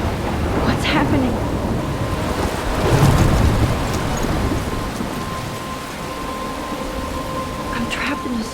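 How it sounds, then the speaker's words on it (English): A thunderstorm in the video game Life is Strange: steady heavy rain hisses throughout while a deep rumble of thunder swells in the middle, with scattered splashy drips on surfaces. "I'm trapped in a storm?"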